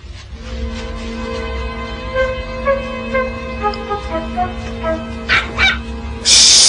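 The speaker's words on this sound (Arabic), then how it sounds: "كلب جميل" Cartoon dog yips and whimpers in short high bursts layered over a steady sustained music tone, loud and close, ending in a harsh noisy burst.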